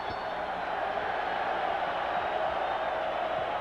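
Derisive crowd noise at the end of a boxing match, with a bell sounding: a steady, broad roar of jeering and cheering that holds at an even level throughout.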